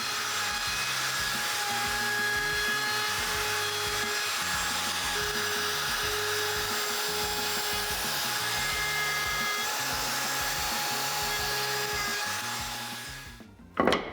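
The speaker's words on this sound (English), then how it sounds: "on the bottom of the leg, I want to round over all 4 corners" A power tool routes round-overs on the corners of a wooden bedside table leg, a continuous close whine with rhythmic pulsing passes that runs for most of the stretch before spinning down abruptly at the end.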